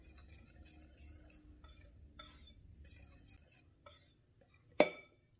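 Baking soda and salt being mixed in a bowl, faint light scraping and clinking strokes in an irregular rhythm, ending with one sharp utensil tap against the bowl.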